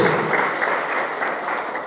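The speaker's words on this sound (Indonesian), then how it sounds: "Beri tepuk tangan yang terbaik buat Tuhan Yesus Kristus" Church congregation applauding during a sermon, a dense, continuous wash of many hands clapping at once with soft thuds, steady and fairly loud throughout.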